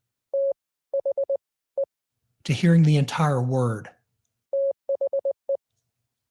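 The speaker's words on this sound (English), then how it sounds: "When you put those series of dots and dashes together, you're not just hearing, you're hearing the word the." Short bursts of a steady Morse code tone, quick dots and longer dashes in distinct groups, sound before and after a stretch of clear speech in a radio workshop.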